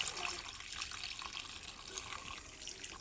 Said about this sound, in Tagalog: Ngayon, buhusan natin ng tubig.